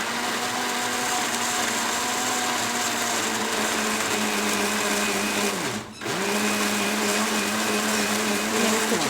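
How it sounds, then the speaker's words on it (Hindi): A mixer grinder whirs continuously as it grinds green garlic chutney, a loud, steady motor drone that dips briefly near the end before spinning back up. "अच्छी तरह से मैं ग्राइंड कर लेती"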